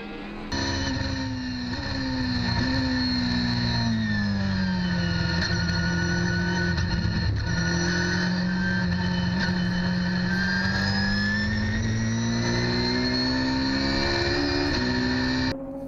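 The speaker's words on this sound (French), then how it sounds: "Voici, depuis la Ferrari Visium, l'instant où il prend la tête de l'épreuve" Ferrari race car onboard during a VdeV endurance race at Castellet in 2015: a loud, steady high-revving engine drone with rising and falling pitch throughout, no voices.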